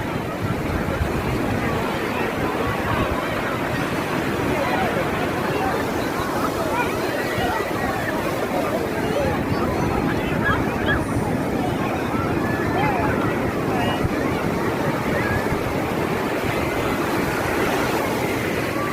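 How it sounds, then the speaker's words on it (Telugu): Strong waves pound Kothapatnam beach in a continuous, loud wash of surf and wind, with crowd chatter faintly mixed in. "అమావాస్య కావడంతో అలలు బాగా ఉధృతిగా వస్తూ ఉన్నాయి."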